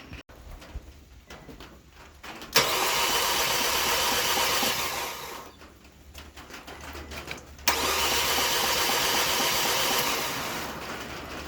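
A 2003 Nissan Altima 2.5 engine, freshly fitted with new plugs and coil packs, cranks in two long, steady, loud bursts of churning noise separated by a brief lull, with no voices.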